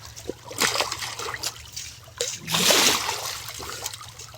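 Water splashes and dribbles in bursts as someone bathes at home in a makeshift pool of cold water, with irregular close sloshes and trickles between louder splashes.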